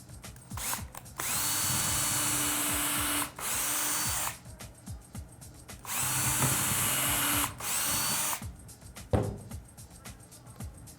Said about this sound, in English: we're gonna drill 2 pilot holes through the rail and into the table leg